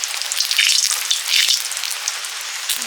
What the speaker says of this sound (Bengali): তেলে দিলাম পাঁচ ফোড়ন